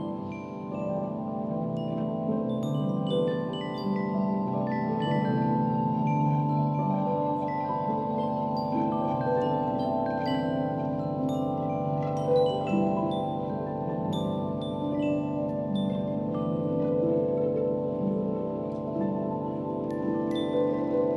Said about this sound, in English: those little twinkling noises you hear, the sort of compact notes, those are stars